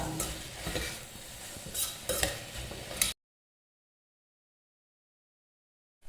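Onions for mutton curry sautéed in a pan, sizzling with scraping stirs and a few utensil clinks, then cutting off abruptly into silence about halfway through.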